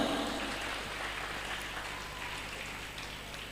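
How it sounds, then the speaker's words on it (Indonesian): Applause at a primary-school robotics showcase by Quran boarding-school pupils, a steady wash of clapping throughout that sounds fairly distant and rain-like, fading only slightly. "Tepuk tangan dulu semuanya dong."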